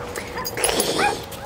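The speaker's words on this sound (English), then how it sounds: "He is an Alaskan Malamute, a pretty big puppy, if you think about it." An Alaskan Malamute puppy, fairly large for its age, gives short yips and high whimpering whines close by, indoors at an old house.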